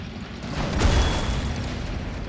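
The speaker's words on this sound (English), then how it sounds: "I want to see more of these cool explosions" A deep explosion booms in the World War II strategy game Men of War: Assault Squad during the Battle of Caen, a heavy low rumble swelling and lingering over steady battle noise.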